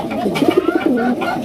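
A male pigeon gives a short series of close, loud, throaty coos in a quick rolling rhythm, the notes rising and falling, with faint background noise around it.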